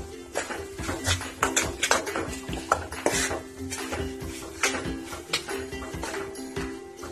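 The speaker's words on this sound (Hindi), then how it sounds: "थोड़ी और देर हम भून लेंगे, कुल हमें इसे भूनने में सिर्फ 2 मिनट ही लगेंगे" Garlic chutney roasting in oil for Kathiyawadi lahsun chutney, with a spoon repeatedly scraping and clinking against the metal pan in a steady stirring rhythm, close and fairly loud over a faint sizzle.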